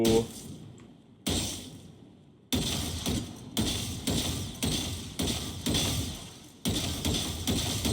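A scoped gun fires in the video game Outlaw, a string of fairly faint, muffled shots about a second apart, each with a short decaying tail.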